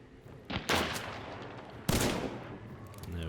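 Sniper fire in the video game Hunt: Showdown: two sharp, loud shots about a second and a half apart, each trailing into a rumbling echo.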